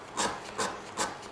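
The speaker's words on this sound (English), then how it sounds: "other than maybe scraping some fat wood on it" A steel pry bar with a tapered tip scrapes across fatwood in three slow, even strokes, each a dry rasping rub about 0.4 seconds apart, close and fairly quiet with no voices.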